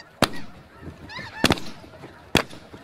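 Snow geese honk during a spring hunt in Alberta, a few nasal calls heard between three sharp, loud shotgun blasts spaced across the moment.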